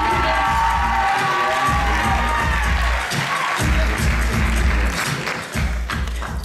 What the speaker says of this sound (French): Candidate numéro 6, c'est à vous, on l'applaudit bien fort.